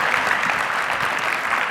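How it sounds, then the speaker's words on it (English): Energetic applause from a live event audience for panelists, dense and steady throughout, with faint voices mixed in. "Big round of applause for our panelists."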